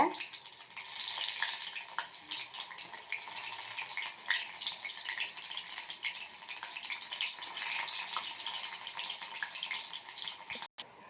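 Anchovy (nethili) fish 65 fries in hot oil, a steady close sizzle and crackle that carries on evenly throughout with a brief handling knock near the end.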